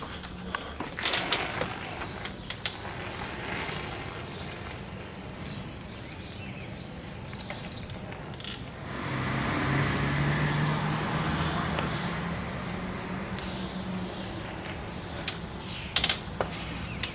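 Bicycle carrying a mobile welding rig ridden around a city block, with steady rolling and rattling mechanical noise from chain and frame, occasional clanks, and a broader road rumble swelling midway; no talk.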